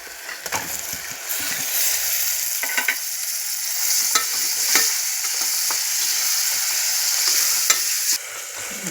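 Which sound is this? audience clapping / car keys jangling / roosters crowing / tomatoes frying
tomatoes frying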